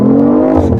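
A BMW i8 accelerates hard: a loud, steady engine roar climbs in pitch through the short burst, heard up close from inside the car with no talking.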